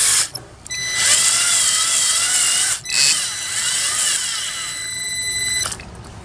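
Small electric driver tightening the final bolt on a 3D printer extruder assembly, a steady high whine running several seconds with brief dips and a rising pitch, close and alone.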